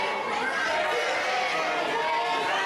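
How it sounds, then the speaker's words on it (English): Wrestling arena crowd roaring and shouting in unison, a steady dense wall of voices filling the space for a few seconds. "The crowd's saying no."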